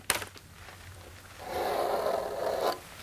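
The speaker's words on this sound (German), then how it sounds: "Die Schneiderin zeichnet das Schnittmuster für den Slip. Ein Kurvenlineal hilft, geschwungene Linien zu ziehen." A pencil drawing a sewing pattern along a curved ruler, opening with a couple of sharp taps, then a smooth, steady scraping stroke lasting about a second, close and clear with no voices.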